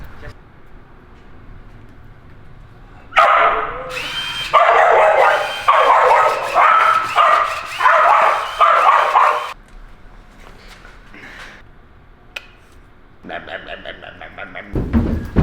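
Shop dog barking loudly and close in rapid, agitated bursts for several seconds, then quieter whines and a few yips, with a last short run of barks.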